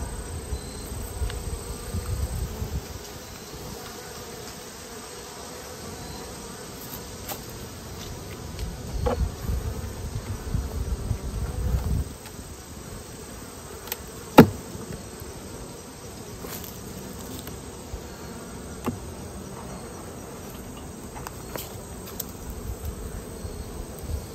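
Honey bees drone in a weak hive being inspected frame by frame, a low, steady hum up close with occasional soft knocks and one sharp click.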